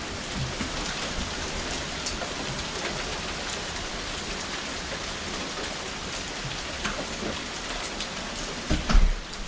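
Quarter-size hail falls during a severe Texas hailstorm, a dense, constant patter with scattered sharper hits and a louder clatter near the end, with no voices.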